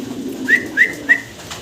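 A fancy-breed pigeon coos three short, soft calls, evenly spaced and close by, over a quiet background.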